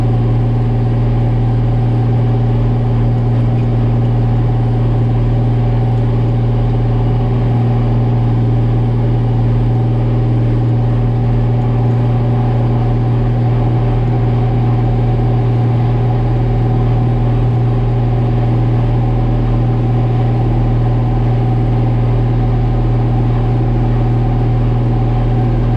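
Tractor with a 15-speed powershift transmission pulling along in 11th gear, its engine a steady, loud, unbroken drone with a low hum throughout and no talking.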